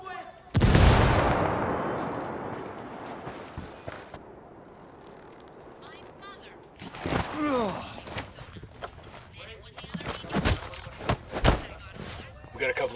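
A frag grenade explosion booms loudly in Ghost Recon Wildlands, its roar decaying over several seconds, followed by scattered bursts of gunfire and shouted voices in the game.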